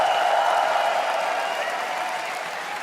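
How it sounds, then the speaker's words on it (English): A crowd at a Dota 2 tournament finals in Berlin applauds and cheers, a dense wash of clapping that holds steady and slowly fades, with faint voices beneath. "Please make some noise for Roger from 9PANDAS"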